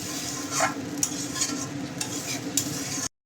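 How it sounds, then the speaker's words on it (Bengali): Spices and a little water being stirred together in a pan of sautéed masala for a Bengali bhola fish tel jhal, with a steady sizzle and scraping of the spoon close by, sharp clinks of utensil against the pan scattered through. "এখন আমি জল দিয়ে দেবো, অল্প করেই জল দেবো, এটা একদম মাখা মাখা হবে।"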